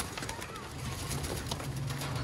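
Pigeons cooing in a loft among a flock of young racing pigeons, soft low coos repeating close by over a steady hum, with someone talking over them.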